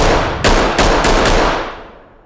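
Gunfire in the tactical shooter game Ready or Not: three or four loud, close shots in quick succession, each a sharp broadband crack over a dense reverberant tail that slowly fades away.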